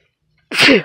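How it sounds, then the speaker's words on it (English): A single close, sharp sneeze bursts out after a moment of silence, loud and brief. "now I'm sneezing on you"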